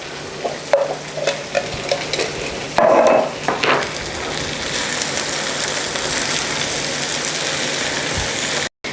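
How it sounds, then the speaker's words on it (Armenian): Fried lentils stirred in a pan, crackling and hissing with a steady loud sizzle while a utensil scrapes and knocks against the pan in uneven strokes, with no voices. "Մի հատ էլ էսպես ենք խառնում"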